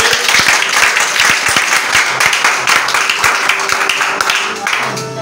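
Congregation applauding during a French-language church service, a dense, sustained wash of clapping from many hands that stays fairly loud throughout, with some crowd voices mixed in.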